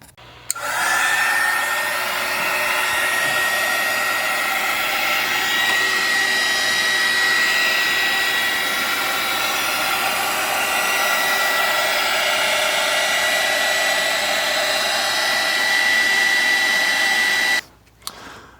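A heat gun blows steadily for about seventeen seconds while heating the edges of an engine's rear main seal cover on a C55 AMG, a loud continuous whine and airy rush that starts and stops abruptly.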